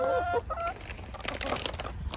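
Hens clucking and chattering close by, a few higher calls at the start, with a steady low rumble underneath.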